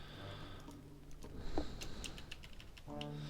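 Keys on a computer keyboard tap in a quick, light patter while a message is entered during an online game, close and fairly quiet.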